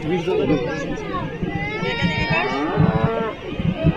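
Cows in a grassy meadow pasture lowing several times, fairly close, over a continuous background of people chatting and talking nearby.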